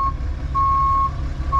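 Reversing beeps from a truck working on a custom fire patio job: a loud, steady electronic tone sounding in regular pulses over the low rumble of the idling engine, with no talk.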